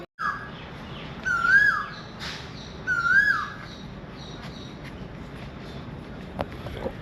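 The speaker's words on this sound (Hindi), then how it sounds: "क्या कोयल की आवाज़ आ रही थी यहाँ" An Asian koel calls near the Brahmaputra river in Guwahati, giving two clear, rising-then-falling whistled calls a second or so apart over a soft outdoor hum, with no one speaking.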